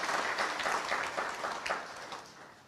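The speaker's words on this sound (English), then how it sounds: "I feel you clap hands for yourself." Audience members at an NGO Week gathering clap their hands for themselves, a dense round of applause that starts full and gradually fades over nearly three seconds.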